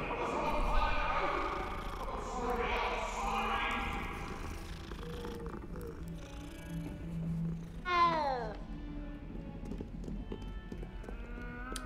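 A cat purrs and meows in the video game Hogwarts Legacy, a soft rumbling purr under game ambience with a rising meow near the middle, while a character speaks over it.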